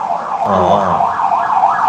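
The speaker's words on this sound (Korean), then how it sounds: "앰뷸런스가 지나가네." An ambulance siren passes by outside, its wailing tone rising and falling steadily and fairly loud, with no talking over it.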